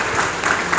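Brief burst of audience clapping at a foundation opening ceremony in Arifwala City, a close, dense patter of many hands under faint crowd noise.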